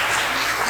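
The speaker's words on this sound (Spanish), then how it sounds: "Un aplauso." Brief steady applause from a church audience, a dense wash of clapping at moderate volume with no talk.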